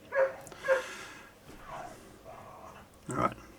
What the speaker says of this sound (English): dogs are going mad outside